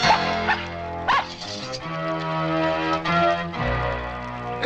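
A dog barks and yips in several sharp bursts over a sustained musical score, close and fairly loud, in a 1984 Cheech and Chong film.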